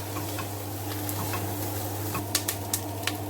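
A kitchen extractor fan runs with a low, steady hum and drone while hot beef curry and onions cook beneath it, faint sizzling and a few light clicks of a utensil near the end.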